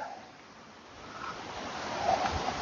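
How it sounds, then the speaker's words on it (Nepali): Water sprays from an air valve on a drinking water pipeline outdoors, a broad rushing hiss that slowly swells louder toward the end, with no speech. "यो माथि पानीको फोहोरा, वाउ। यो चाहिँ एयर भल्भ भनिन्छ"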